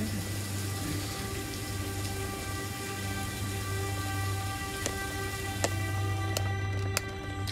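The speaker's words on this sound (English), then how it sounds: "It's actually now raining." Rain falling at night while camping up a tree, steady soft patter across the surface with a few sharper nearby drops, and a low continuous rumble underneath.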